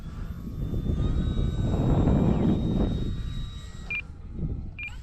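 An E-flite Cherokee RC airplane on 4S power makes a pass in strong wind on a dark morning. The motor whine swells and fades as it flies by, followed by two short electronic beeps.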